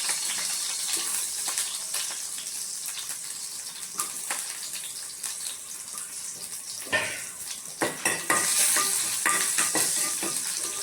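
Onion and garlic fry in a pan with a steady crackling sizzle, interrupted by stirring scrapes and utensil clatter that grow busier and louder toward the end.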